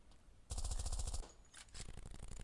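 Rapid automatic gunfire aimed at a robot in a retro robot-hunting video game, two loud bursts of repeated shots separated by a short gap, with no talk over them.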